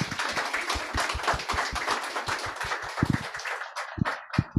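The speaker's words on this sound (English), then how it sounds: "Please give her a big round of applause." Applause from a seminar audience after a talk on smart construction and digital technologies, a few people clapping in an irregular, fairly close patter that thins out near the end.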